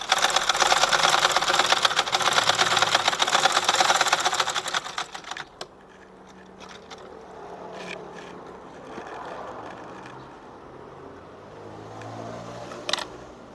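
A sewing machine stitches a garment at the waist, shortening it without cutting. Rapid, steady mechanical stitching runs close and loud for about five seconds, then stops, leaving quiet room noise with a few soft clicks.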